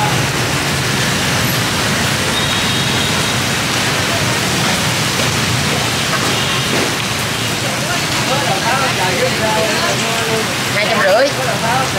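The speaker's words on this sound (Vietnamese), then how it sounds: "Trời là trời rất mưa" Heavy rain pours down at a durian depot in Vietnam, a dense, even hiss that fills the whole stretch, with faint voices in the background near the end.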